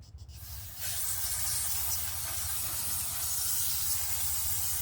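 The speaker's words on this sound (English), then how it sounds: "So we'll blow out the old grease and we'll re-grease these before we put it all back together." A compressed air jet blows old grease out of racecar rear suspension parts, a close, steady hiss that starts abruptly and runs continuously over a low mechanical hum.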